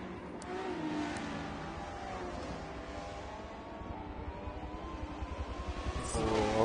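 Ferrari race car engines in a racing video game drone and rev in a continuous, fairly faint blend, rising slightly toward the end.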